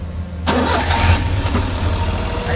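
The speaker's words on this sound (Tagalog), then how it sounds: "ipakita ko sa inyo paandarin natin ang makina" A Suzuki DA63 with a K6A engine cranks and catches after a moment of quiet, then settles into a steady, loud, close idle.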